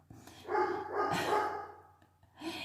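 Several loud barks from a nearby dog come in uneven bursts, fading briefly before one more bark at the end; no voices are heard.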